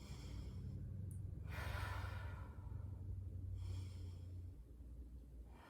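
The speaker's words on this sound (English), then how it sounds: "Take a few big loving breaths in." Slow, deep breathing during a hatha yoga stretch, with long airy inhales and exhales rising and falling over steady low background hum, close and fairly soft.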